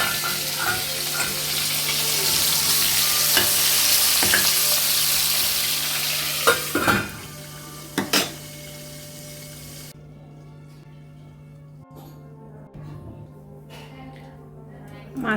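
Fish heads fry in a covered pan, a steady loud sizzle for the first half that drops away after a lid knock, leaving a faint bubbling simmer with occasional clatters of utensils.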